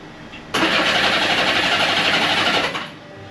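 A Honda Goldwing motorcycle's starter cranks the engine over in one steady, loud whirring burst lasting about two seconds, then cuts off.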